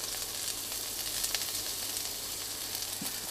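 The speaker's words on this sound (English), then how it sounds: "stir fry that for about 10-15 seconds" Ginger, spring onions and garlic sizzle in hot oil in a wok, a steady close crackling hiss with faint stirring.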